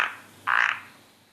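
A pet frog named Fifine croaks in reply, one short loud burst after a faint opening call, alone with no talking.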